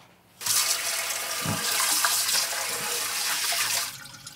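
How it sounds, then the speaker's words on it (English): Short grain rice being washed in water, with steady rushing, sloshing water close by that runs continuously for several seconds before stopping. "2 cups of rice. This is short grain rice, 2 cups. So 1 cup, and this is 2 cups. Let's wash."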